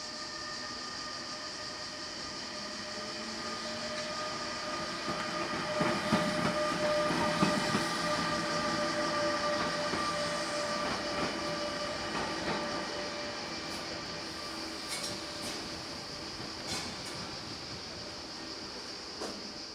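A Trenitalia Frecciarossa high-speed train rumbles and rattles through a station, rising and then fading, with steady tonal whining and some metallic clicks over a hushed background.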